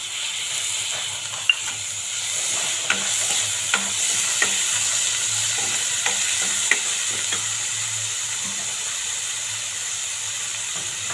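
Okra (ladies finger) fries in a pan with a steady, even sizzle, broken by light scraping and tapping as it is stirred.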